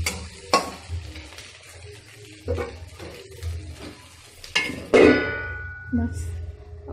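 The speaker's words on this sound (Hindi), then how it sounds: "इतना ही आलू इसमें लिया है, इसको फ्राई होने के लिए इसको ढक देंगे।" Potatoes fry in a covered pan with a soft, steady sizzle, broken by sharp clanks of the lid and utensils while someone talks over it.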